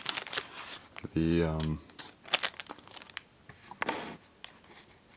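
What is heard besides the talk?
opening plastic packaging of a Beyblade with scissors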